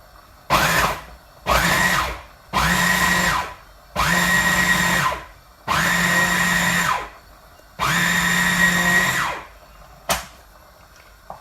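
A food processor chops saltfish with no liquid added. The motor whirs in six loud pulses of growing length, separated by short silences, and a brief final burst follows.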